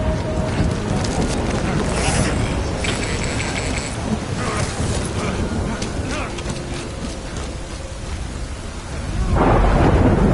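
A thunderstorm in Death Stranding: heavy, constant rain with rolling thunder rumbles throughout, loud and close, swelling near the end.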